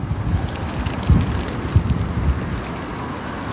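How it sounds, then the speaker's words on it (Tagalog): Steady wind gusts buffet the microphone with a low, rumbling roar, with a few louder thumps, fairly loud and continuous. "Malamig ang simoy ng hangin"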